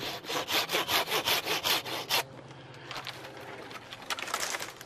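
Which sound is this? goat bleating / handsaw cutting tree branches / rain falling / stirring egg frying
handsaw cutting tree branches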